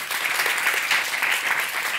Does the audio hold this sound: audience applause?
yes